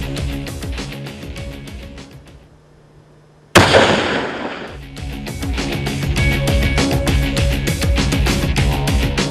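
A .308 rifle fires at a Barbado ram at 514 yards outdoors, one sharp, loud shot that cuts through the steady background noise and trails off into a brief echo.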